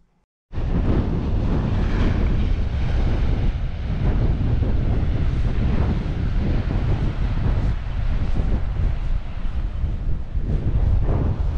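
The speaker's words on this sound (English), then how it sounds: "The wind's not too bad over here" Strong wind buffets the microphone outdoors in a constant, heavy roar on Shetland's south coast, with no voices over it.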